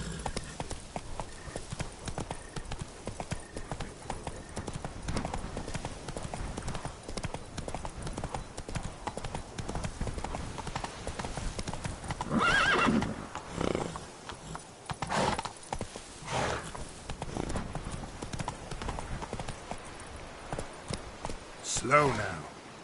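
A horse gallops in The Witcher 3 video game, its hooves clip-clopping in a steady rhythm across the ground, with occasional neighs and louder snorts and voices speaking over the hoofbeats.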